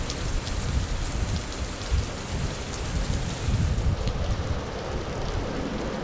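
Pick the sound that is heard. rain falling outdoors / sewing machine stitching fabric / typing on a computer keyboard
rain falling outdoors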